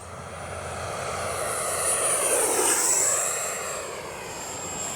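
An RC F9F-8 Cougar model jet fitted with a Freewing afterburner and drop tanks passes overhead, its whining turbine roar swelling as it nears and fading as it moves away, with a shrill high-pitched tone sweeping across it.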